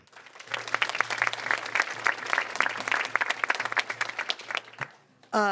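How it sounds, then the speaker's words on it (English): An audience applauds a speaker at a conference opening, a burst of distinct close handclaps over a low hum, swelling and then thinning out before stopping. "Let's give her a round of applause."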